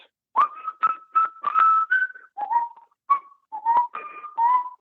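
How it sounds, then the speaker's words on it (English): A clear, melodic whistled tune in short phrases with brief pauses, sustained notes rising and falling, close and fairly loud with no voices. "So I started whistling one of his greatest hits."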